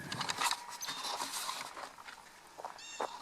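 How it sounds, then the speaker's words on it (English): Light drizzle patters softly on a farm, a faint, scattered, irregular tapping that stays low and steady throughout. "Just a little bit of drizzle coming down right now."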